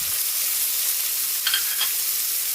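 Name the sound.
chicken liver stir-frying in a pan for chop suey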